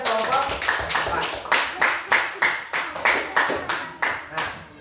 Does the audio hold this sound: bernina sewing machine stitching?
no